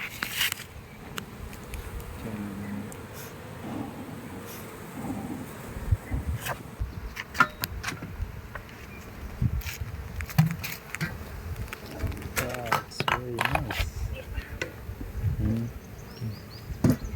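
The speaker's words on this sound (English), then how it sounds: "So those are the stingless bees." Stingless bees hum and buzz around a hive at the Hatta bee farm, a soft continuous drone with flies passing close, while a person says a few words over it.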